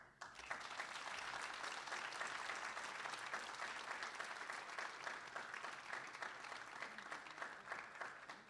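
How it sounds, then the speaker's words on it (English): A full room at an annual meeting gives a sustained round of applause for the opening and keynote speakers, with continuous, even clapping from many hands that is fairly distant and soft, tapering slightly at the end. "One more round of applause for both of our fabulous speakers today"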